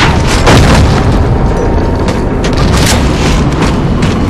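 Loud, booming shotgun blasts in a multiplayer shooter game fill the clip with dense, continuous gunfire and explosions, close and overwhelming, with no talk.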